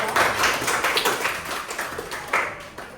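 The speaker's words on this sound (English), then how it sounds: "Give her a round of applause." A classroom group applauds, a dense patter of clapping hands that holds steady for a few seconds at moderate loudness.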